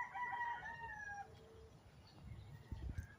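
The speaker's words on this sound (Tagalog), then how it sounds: "meron tayong manok na inahin, pero bawal tayong lumapit" A hen crows and calls briefly at a distance, a drawn-out cry fading after about a second, followed by faint rustling and a soft thump nearby.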